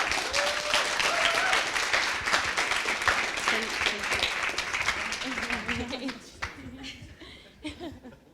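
Audience applause fills a demo day presentation room, a loud burst of clapping with some chuckles that gradually thins out toward the end.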